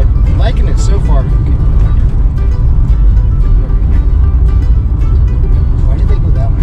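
A 2000 Chevy Impala fitted with new suspension, driven through corners, giving a loud, steady interior road and engine rumble with broad tire noise throughout and no clear shifts, heard from inside the cabin.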